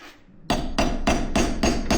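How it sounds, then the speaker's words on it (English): A hammer strikes metal as a bent spindle is knocked off an air seeder: six hard, evenly spaced blows ring out loud and close, with no talking. "I'm just gonna hammer it off like that."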